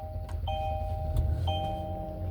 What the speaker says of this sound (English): So first you want to start the vehicle